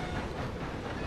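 Train rolling along in Red Dead Redemption 2, a steady broadband rumble with rail noise, continuous and fairly loud throughout the short stretch, no voices.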